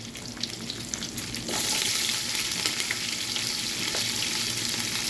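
Onions, cashews, curry leaves, cinnamon and cloves frying in ghee for ghee rice give a steady, close crackling sizzle that grows louder and denser partway through and then holds.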